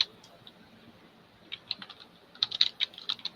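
Keyboard keys clicking during an online meeting, a light scattered patter early on that turns into denser, louder bursts of typing toward the end, with no voices.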